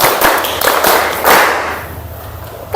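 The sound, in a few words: class doing the 'tepuk 1, tepuk 5' clapping ice breaker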